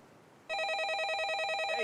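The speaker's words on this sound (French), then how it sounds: "Le téléphone sonne." A telephone rings with a steady, rapidly trilling electronic bell that starts abruptly and continues unbroken, loud and close, with no voices.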